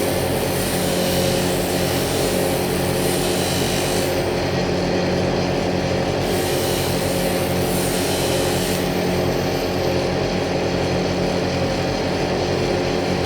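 Steady, loud rasping and grinding as string channels are carved into an egg-shaped prayer bead, the tool working continuously without pause and with no voices.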